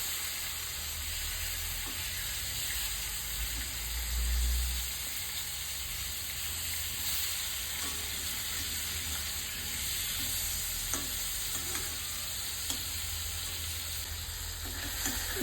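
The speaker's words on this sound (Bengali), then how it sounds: "এবার উল্টে পাল্টে ভেজে নিচ্ছি।" Silver carp pieces sizzle in oil in a black iron pan as they are turned over, a constant frying hiss with occasional small clicks and one low bump, nobody speaking.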